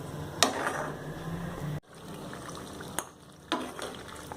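Thick radish pickle bubbles and sizzles steadily in oil in a pan, with a few soft clinks and scrapes, fairly quiet and close.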